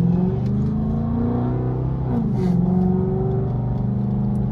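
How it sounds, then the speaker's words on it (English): A supercharged 2013 Chrysler 300C Hemi engine revs up close and loud, a steady throaty roar with rising and falling pitch and a brief surge near the middle, no voices over it. "y'all heard that motherfucking supercharger"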